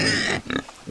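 Farm pigs grunt and oink up close in a short, loud burst, followed by a quieter snuffle and a brief grunt.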